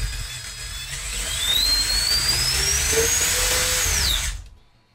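Furitek Python X brushless motor in an SCX10.3 crawler running under throttle and reverse, a steady high electric whine with pitch sweeping up and back down before cutting off near the end.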